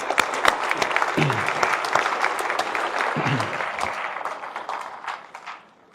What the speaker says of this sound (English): let's give a quick round of applause to you guys.